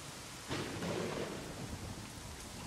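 In the video game Days Gone, thunder rumbles during a rainstorm, a low rolling boom that swells over steady hissing rain and then fades slowly.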